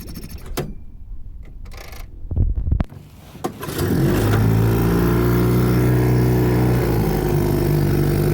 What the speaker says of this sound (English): I was expecting to have a whole lot of lean pops with this motor.